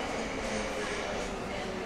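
Steady interior rumble and hiss of a metro train on the move during a short ride, an even, continuous noise with no distinct events.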